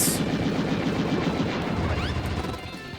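Rapid machine gun fire in the arcade shooter Wild Guns Reloaded, a loud continuous rattling burst mixed with game effects that tapers off near the end.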